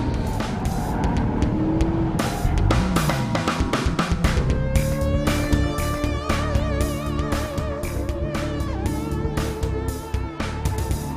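A Sportec RS500 at high revs, its engine roaring loud and close with dense, busy intensity throughout, punctuated by repeated sharp bursts that could be gear shifts or tire noise.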